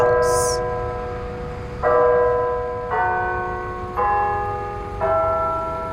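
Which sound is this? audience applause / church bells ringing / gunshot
church bells ringing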